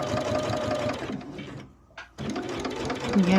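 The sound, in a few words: sewing machine stitching quilt rows with walking foot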